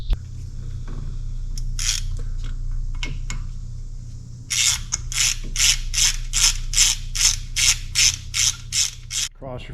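A spark plug is threaded back into a small engine with a ratcheting tool over a steady low hum, a few scattered clicks first, then a regular run of about a dozen crisp ratchet strokes close by.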